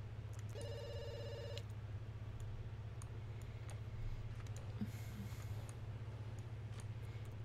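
A telephone rings in The Sims 2 video game: one short burst of electronic trilling ring tone, then steady game ambience with faint clicks and no speech.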